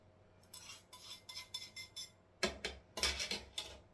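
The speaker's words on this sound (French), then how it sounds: "On doit mélanger le beurre" Butter and sugar are worked together in a bowl, a close series of rhythmic scraping, clinking strokes in quick bursts, with a brief pause partway and no voices.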